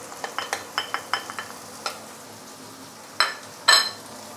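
Fried roast pork with garlic and spring onion is stirred in a pan: a run of quick, close scraping strokes with light clinks, then two louder, sharper scrapes at the end.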